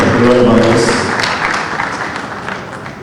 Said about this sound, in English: Please another round of applause for Most Reverend Matthew Asakuka.